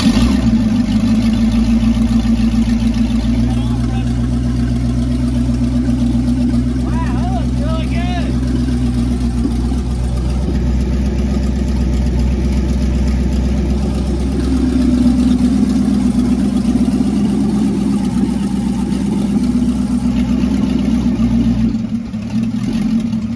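The engine of a 1967 4x4 Chevy van runs steadily at a loud idle near the listener, with a brief rise in revs partway through and a rough, throaty drone that carries on for the whole stretch.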